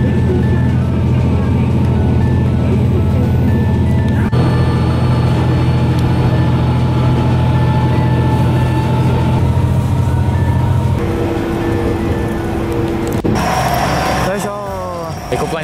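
A one-car rapid train idles and runs on a rural line toward Higashi-Tsuyama, giving a loud, steady diesel engine drone with a constant low hum, then shifting pitch near the end as it moves off.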